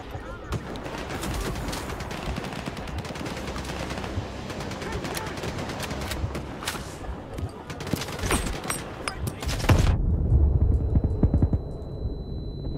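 Enemy gunfire in the Stalker 2 video game rattles in dense, continuous bursts for most of the clip, ending in a heavier rumbling blast, while a person talks over it.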